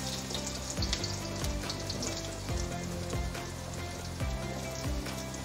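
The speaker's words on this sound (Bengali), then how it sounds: "আলুগুলো একটু ভেজে নেব।" Potatoes frying in oil tempered with cumin, dried chilli and bay leaf, a soft continuous sizzle and crackle with a few dull knocks of stirring recurring at intervals, fairly quiet and close.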